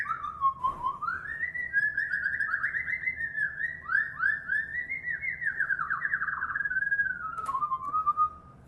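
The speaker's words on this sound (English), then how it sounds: "a computer-generated sound bite where the computer is essentially generating what we call a random walk" A computer-generated tone wanders in a random walk, a continuous whistle-like pitch gliding and wobbling up and down with fast warbling trills, faint and steady for several seconds over a quiet hum.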